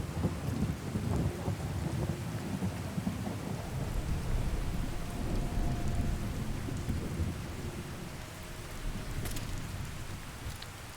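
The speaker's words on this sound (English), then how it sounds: "It looks like the rain is clearing the mist." Steady rain pours in a Fallout 4 video game storm, with low thunder rumbling throughout, swelling near the middle and fading slightly toward the end.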